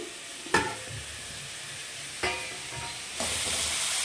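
Marinated chicken is dropped into a hot pan and sizzles and fries steadily, with a few sharp clatters of stirring or adding pieces over a constant hiss.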